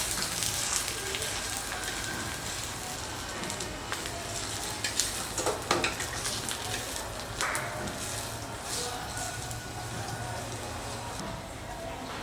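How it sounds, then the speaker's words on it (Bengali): A cauliflower paratha fries in oil on a pan, giving a steady crackling sizzle throughout with scattered pops, moderately close. "এবারে আমি একটু তেল দিয়ে দিয়ে এটাকে ভেজে নেব"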